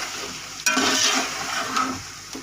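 Beef bones for keema yakhni pulao fry in a pot, a sudden loud sizzle and scraping stir swelling and easing over a couple of seconds, close and without talk.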